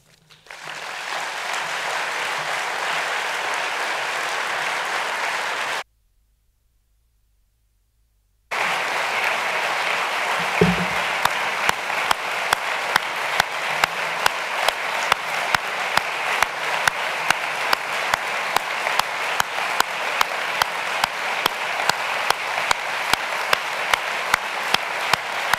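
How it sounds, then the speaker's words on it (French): Sustained applause from an audience at the Dies academicus 2023 academic ceremony, broad and steady, cutting off briefly to silence before resuming as a long, even wash of clapping. "les applaudissements en témoignent"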